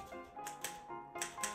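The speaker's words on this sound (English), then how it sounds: "They just kept typing and typing and typing." Rapid typewriter typing with irregular clusters of sharp key strikes, close and fairly quiet, with no talking.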